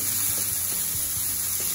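Bacon and red chili sizzle steadily in a pan, a constant bright hiss with faint soft stirring ticks underneath.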